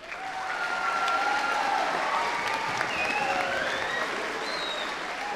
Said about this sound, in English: Let's have another round of applause for Blake.